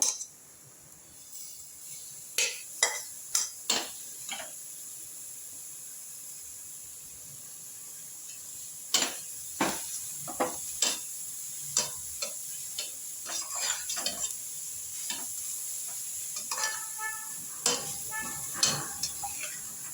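Carrots and onions sauté in a pan for carrot rice, heard as scattered sharp clicks and scrapes of stirring over a faint sizzle, with bursts of activity separated by quieter stretches.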